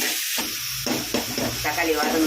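Tomato paste, made from three ground tomatoes, frying and being stirred in a pan, with a steady close sizzle broken by scraping stir strokes and no talk.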